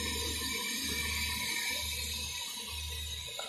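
Cold water flowing steadily through a counter flow heat exchanger in a heat and mass transfer lab, a continuous rushing hiss with a low pulsing hum from pumping equipment beneath it.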